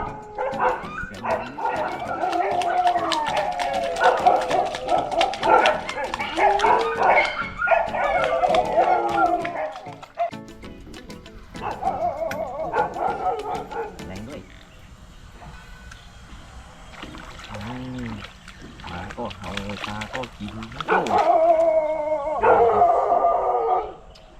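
A dog barks and yips repeatedly at an outdoor fishing spot, with howl-like bursts coming in clusters, pausing, then returning loud near the end, and a voice occasionally heard.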